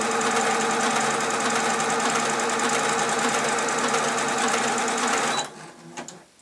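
An electric sewing machine runs a serpentine stitch with a loud, steady, fast mechanical whirr and rattle that stops abruptly near the end, leaving a few faint clicks.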